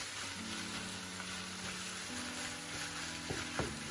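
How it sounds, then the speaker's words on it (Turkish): A soft, steady sizzle of chopped tomatoes sautéing in a pan, with faint stirring and a couple of light clicks near the end. "Şimdi bir iki dakika kavurup üstüne yemeklik doğradığımız domateslerimizi ilave edip"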